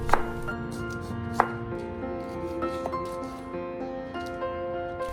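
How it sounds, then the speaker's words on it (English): A knife cuts tomato and onion into rings on a board, with sharp chopping taps at uneven intervals over a faint background hum. "So first cut the tomato and onion into ring shape"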